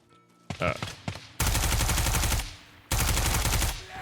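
Bursts of rapid automatic gunfire in the video game Ground Branch, close and loud, in two long sustained volleys after a few scattered shots.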